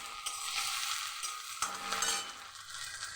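Food is stirred in a frying pan with a spatula, producing quick scraping and shuffling strokes over a bright, hissing sizzle, close and fairly quiet, with no talking.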